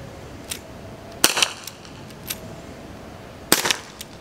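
An Aiesoft WG708 CO2 revolver fires two sharp, close shots a couple of seconds apart, each with a quick rattling tail, and a few fainter clicks and taps fall between them.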